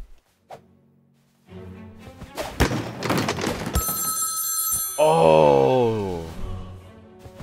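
A telephone rings in South Park: The Stick of Truth, a bright electronic bell tone after a burst of thumps and clatter, followed by a loud cartoon voice.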